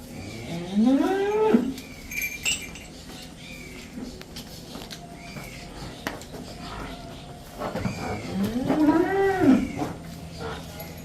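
Buffalo and cows on a farm give two long, loud mooing calls a few seconds apart, with quieter farmyard noise and faint background voices between them.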